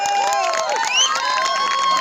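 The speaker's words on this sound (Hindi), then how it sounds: "एक बार जोरदार तालियां बजा दो" An audience at the Navotsav 2022 Navodaya alumni meet, gathered for a poetry recital, cheers loudly with overlapping shouts, whistle-like calls and clapping, forming a dense crowd roar that holds steady throughout.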